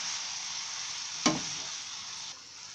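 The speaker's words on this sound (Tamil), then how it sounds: "நம்ம நூடுல்ஸ் எல்லாமே போட்டுட்டு இது என்ன பண்ணுறீங்க, இந்த மசாலாவோட ஃபுல்லாகவே நல்லா மிக்ஸ் ஆகிற மாதிரி பார்த்துக்குங்க" Cooked noodles being stirred with masala sauce in a hot pan give a steady close sizzle, broken by one sharp scrape of the spoon, before the sizzle eases off.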